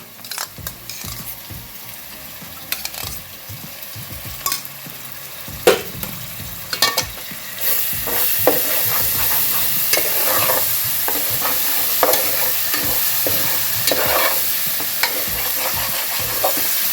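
Crab curry masala frying in a pan as curd is added and stirred, with steady loud sizzling, repeated scraping strokes and occasional clinks of a utensil against the pot; no talking.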